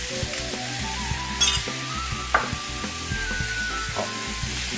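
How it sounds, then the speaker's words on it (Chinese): Garlic chive flowers stir-fry in a wok with a bit of sauce and water, a steady close sizzle broken by occasional scrapes and clinks of the spatula, with no voices. "我们要把它炒香炒匀"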